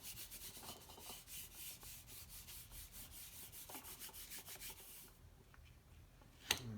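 Paper being rubbed by hand over an inked gel plate to pull a mono print, a steady soft scrubbing rasp in quick repeated strokes for about five seconds, then quieter with a brief sharp knock near the end.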